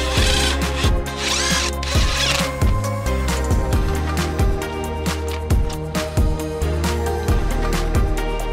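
On a 1.8T engine, a power tool bolting down the fuel rail gives repeated short whirring bursts with sharp starts and stops in an irregular rhythm, heard close and fairly loud.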